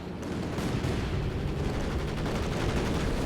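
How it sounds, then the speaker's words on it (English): Aircraft strafing run in the World War II strategy game Company of Heroes 2, a continuous rumbling barrage of rapid gunfire and distant blasts with no pauses, moderately loud throughout. "Strafing runs, they push back the German troops."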